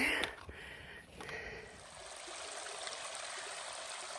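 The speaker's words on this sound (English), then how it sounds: "this is a really beautiful stream" A mountain stream on the Appalachian Trail rushes in a steady, broad wash of flowing water, with a brief knock or two at the start and no voices over it.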